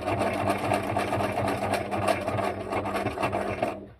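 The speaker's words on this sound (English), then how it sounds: "I run through my sewing machine now." A sewing machine runs steadily in a zigzag stitch across a butterfly's body on a junk journal tag, a close, continuous mechanical whir with a fine rapid rattle that stops abruptly just before the end.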